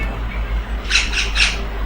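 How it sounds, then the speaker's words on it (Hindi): A parrot squawks in the background of an indoor exam-prep lesson: three short, harsh calls in quick succession over a steady low hum, with no talking. "इसमें कोई तोते की अगर हमारी आवाज़ आपको आ रही होगी तो परेशान नहीं होना"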